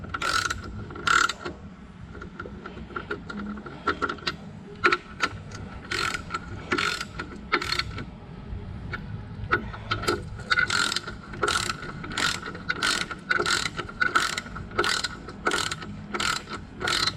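Ratchet wrench clicking repeatedly as bolts holding a tin cast cover are nipped up on a Detroit Diesel 6-71 engine during assembly, steady close bursts of sharp pawl clicks with brief pauses throughout.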